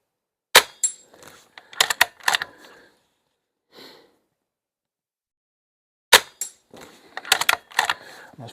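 Shots from a BSA Super 10 Evolution .22 PCP air rifle, bought new in 1995 and fired hundreds of thousands of times, come as sharp, close, loud cracks, one near the start and another about six seconds later, each trailed by clicks and handling noise.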